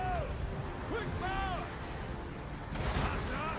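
Distant battlefield shooting and cannon thuds from units in Total War: Warhammer 2, a low rumbling barrage running beneath a voice and the game's sounds.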